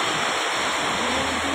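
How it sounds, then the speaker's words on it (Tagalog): Floodwater rushes loudly and continuously through a flooded neighborhood, a close, dense roar of moving water with no pauses. "Yan po, baha na po dito sa amin."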